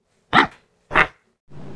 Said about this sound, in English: Wolf Mecca, do not bite any other dogs